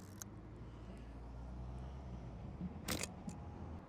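A forty-year-old Soviet film camera's shutter fires near the mic as a sharp mechanical click, with one stronger snap among a few faint ticks over a low background hum.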